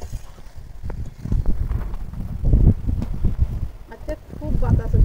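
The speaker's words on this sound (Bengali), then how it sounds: "খুব বাতাস হচ্ছে বাইরে।" Strong wind blows outdoors, buffeting the microphone in uneven gusts and rumbles, with a person speaking over it.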